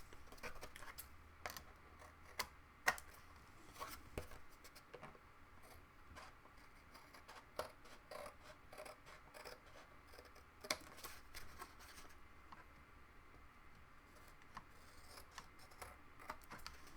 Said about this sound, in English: So I'll go ahead and trim it.